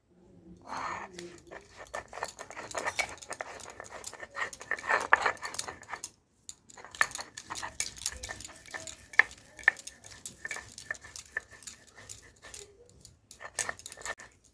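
Cashews and poppy seeds are ground into a paste by hand, close-up, with quick irregular scraping and rubbing strokes that pause briefly midway and then resume.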